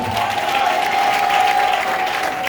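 A church congregation claps and cheers in praise during a worship service, a dense, loud, sustained burst of applause filling the room with a steady tone ringing underneath.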